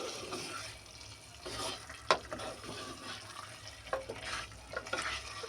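Duck meat browning in a clay pot is stirred with a utensil, giving quiet wet scrapes and a few sharper knocks against the pot over soft sizzling.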